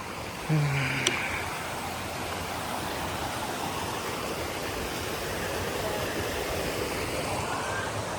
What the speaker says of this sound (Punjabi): ਪਾਣੀ ਆ ਰਿਹਾ ਉਤੋਂ ਪਹਾੜਾਂ ਤੋਂ